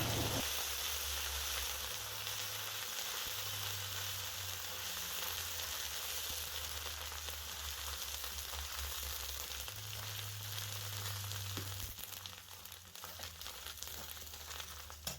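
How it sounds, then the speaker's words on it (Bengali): Ginger paste with turmeric and slit green chillies frying in oil, a dense, continuous loud sizzle and hiss with occasional faint crackles, close up and steady throughout. "আদা বাটা দিয়ে খানিকক্ষণ মশলাটা ভাজবো।"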